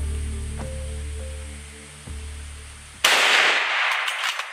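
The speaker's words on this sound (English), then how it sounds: "It's high time, and the shot breaks quickly." A Mauser M 98 Magnum rifle fires a single loud, sharp shot at a bull on a Mozambique hunt. The crack cuts through a low steady hum and fades into a rough, rumbling decay.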